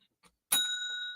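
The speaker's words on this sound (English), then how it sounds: "The excuse bell isn't just for you, Justin." Excuse bell rung on a sports talk show: one bright, clear ding with a long ringing tail, preceded by a faint tap.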